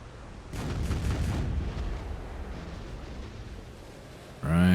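A heavy boom bursts out at sea in Black Desert, a deep low rumble that rolls on and fades over a few seconds, followed by a sudden louder tonal game sound at the end.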